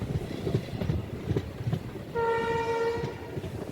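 Passenger train at Chennai Egmore station, the Rameswaram Express, rumbling with clattering noise before a loud, steady horn blast sounds for about a second near the middle, then fades back into the rolling rumble.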